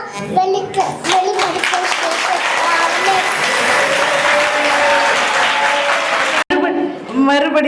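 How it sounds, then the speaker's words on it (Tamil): Hearty applause from a church Christmas cultural program audience in Vellore, steady clapping filling most of the clip after a brief spoken intro, with a voice and some talk heard at the start and end. "மறுபடியும் ஒரு நல்ல கைத்தட்டு அந்த குழந்தை கொடுக்கலாமா?"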